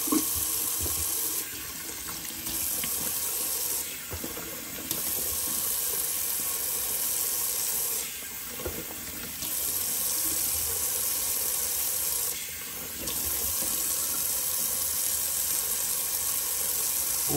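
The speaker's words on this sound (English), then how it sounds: "cold water rinse." A bathroom sink tap runs steadily for a cold water rinse during a wet shave, giving a continuous splashing hiss that briefly changes as hands or the face pass through the stream.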